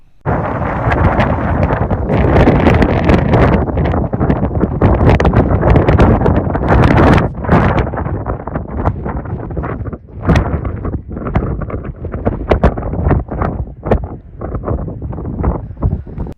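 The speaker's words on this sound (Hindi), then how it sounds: "इस मकाम पर इतनी तेज़ हवा है कि बैलेंस बरकरार रखना बहुत मुश्किल है।" Strong wind on a seaside cliff in Norway roars and buffets the microphone in heavy, uneven gusts, loud and close, easing slightly toward the end.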